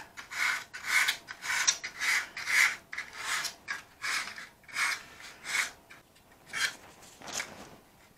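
Sandpaper rubs back and forth over a rough spot on wood, making about a dozen close, rhythmic rasping strokes that are fairly loud and heard alone.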